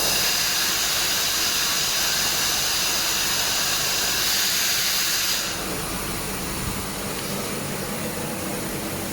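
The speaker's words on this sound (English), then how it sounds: "we'll now open the inlet to let the gas out, to let the air out" Compressed air rushing out of the inlet of an Atlas Copco FD 150 air dryer, a loud continuous broadband hiss that drops to a slightly softer steady hiss partway through.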